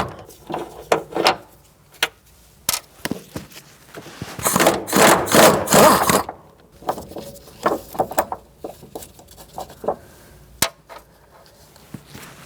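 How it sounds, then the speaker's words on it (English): A 13mm socket and ratchet removing two nuts from a rear shock absorber on a 2008-2014 Mercedes-Benz C300, a string of sharp metallic clicks and knocks with a brief burst of rapid ratcheting midway. "Using a 13mm socket, we're going to take off these 2 nuts."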